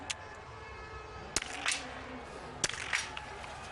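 Rifle shots ring out at a biathlon shooting range during a single mixed relay World Cup race, two or three sharp distinct cracks spaced over crowd and ambient noise.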